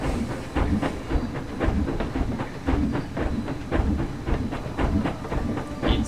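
In the game Planet Coaster, a roller coaster train runs high along its track, giving a continuous rumble with a regular clickety-clack rhythm that stays steady and fairly loud throughout.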